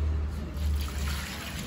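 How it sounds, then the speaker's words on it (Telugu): Water is poured into a flour mixture seasoned with salt and sesame seeds for Telangana sakinalu dough: a soft, steady trickle and splash close by, running alone without talk. "అన్నాక ఇక వాటర్ పోసుకోవాలి"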